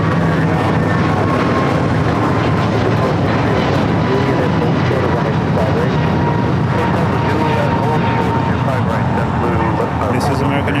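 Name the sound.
American Airlines A321neo airliner at LAX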